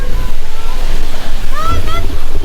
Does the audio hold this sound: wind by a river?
yes